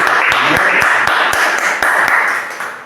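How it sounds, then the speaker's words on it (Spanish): A church congregation claps steadily and loudly at a Wednesday service, with a voice carrying over the applause throughout. "Un aplauso."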